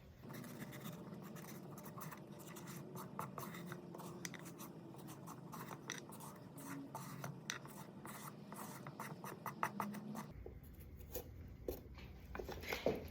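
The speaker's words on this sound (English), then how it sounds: "I do not recommend peeling a carrot with a sharp knife instead of a peeler" Two carrots scraped with a sharp knife in place of a peeler: a steady run of dense, rasping scratches at close range that stops abruptly near the end, leaving a few faint taps.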